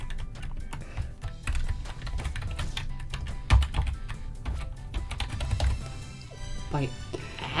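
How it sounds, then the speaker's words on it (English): Rapid, uneven keystrokes clatter on a computer keyboard during a danmaku game session, close and fairly loud, with game music and effects beneath and brief pauses between bursts. "If I just hit buttons on my keyboard instead of the controller"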